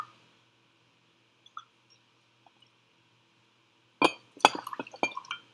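Two ounces of rum pour into a glass for a Tí Punch cocktail, heard as a brief cluster of liquid splashes and glassy clinks near the end after mostly quiet moments with a few small taps.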